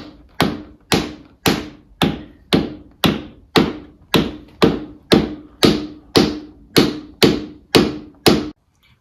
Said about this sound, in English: So what I'm now going to do is just gently tap this out as far as I can.